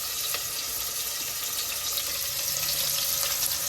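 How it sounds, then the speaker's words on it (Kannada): Onions frying in oil with ground clove and pepper spice for dum biryani, a steady, close, continuous sizzle with no talking. "ಉಳ್ಳಾಗಡ್ಡಿ ಕೆಂಪಾಗಂಗೆ ಫ್ರೈ ಮಾಡಬೇಕು"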